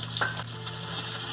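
Chopped onion going into hot oil in a pan for Hyderabadi green chili chicken curry, a brief splashy hit followed by a steady soft sizzle, fairly quiet and close, with no talking.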